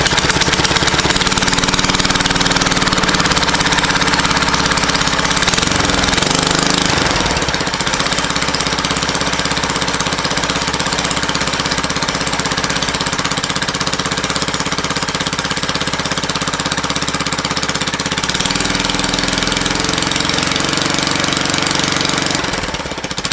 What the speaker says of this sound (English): Right now we're going to fire it up while it's sitting here on the jack stands